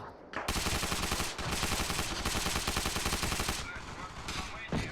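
Rapid bursts of automatic gunfire from Arma Reforger, loud and sustained, with short pauses between volleys.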